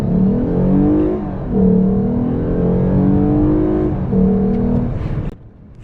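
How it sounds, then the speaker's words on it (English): A Lexus RC 350 engine pulls hard under throttle while accelerating, its induction note rising in steady harmonic sweeps through several gear shifts, loud and close, before dropping away at the end. "The induction noise just sounds so good when you are putting it into throttle."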